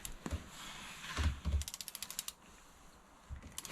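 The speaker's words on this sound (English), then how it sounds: "now we're going to torque this cap down to 80 foot-pounds per inch" A torque wrench tightens the oil filter cap on a 2018-2022 Sea-Doo RXT X 300 personal watercraft, giving a quiet run of evenly spaced ratchet clicks between faint creaks and knocks, close and soft.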